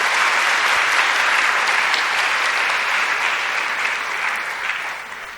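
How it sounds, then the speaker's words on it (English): Sustained, dense applause from a large audience at a 2017 graduation ceremony, honoring the graduating students, loud and steady throughout and tapering slightly near the end, with no talking. "Let's give them a very, very big round of applause,"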